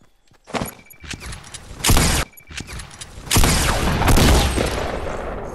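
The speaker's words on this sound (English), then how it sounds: "There's a sniper close." Gunfire in the video game Fortnite, including sniper rifle shots: sharp loud cracks and bursts in quick succession, with dense noisy stretches and brief gaps, close and dominating the mix.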